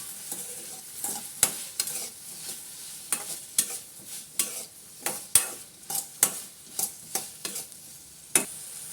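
Food seasoned with salt is stirred in a pan, giving a quick run of clicking, scraping utensil strokes over a faint sizzle, close and fairly quiet.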